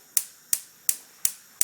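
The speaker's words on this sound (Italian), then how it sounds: "Accendiamo il fuoco" A gas stove burner being lit for a pot of cold salted water: five sharp, evenly spaced igniter clicks, close and crisp, about one every third of a second, with no talk.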